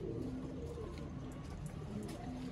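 Pigeons coo softly in low, repeated murmurs, close but quiet, with faint background noise and no one talking.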